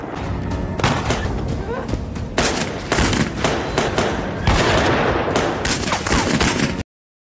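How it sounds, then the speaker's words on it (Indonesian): Gunfire rings out in a film shootout between a man and a gang's henchmen, loud bursts and shots repeating in close clusters over a rumbling score, with no voices. "Baku tembak pun terjadi antara Wes dan anak buah Shaw."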